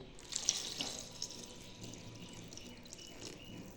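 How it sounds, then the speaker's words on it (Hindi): Kanji, a tangy liquid, poured from above onto squeezed, soaked lentil vadas in a bowl; a soft, steady watery trickle and splash continues throughout at close range, with no talking. "तो बड़ों को मैंने पानी में से निचोड़ के बाउल के अंदर डाल दिया है और इसके ऊपर मैं डालूंगी कांजी।"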